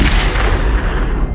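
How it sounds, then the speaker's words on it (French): Gunshots rendered as a sound effect, a dense, loud burst of booming fire that fills the whole moment with no gaps or talk. "Le bruit des coups de feu"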